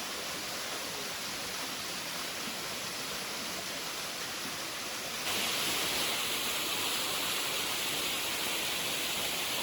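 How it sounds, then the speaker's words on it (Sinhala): Stream water rushing between rocks near a footbridge, a constant dense close roar with no variation in rhythm and a slight jump in level partway through, no voices. "ඊළඟට මේ පැත්තට ගලාගෙන යන්නේ ගල් අස්සේ"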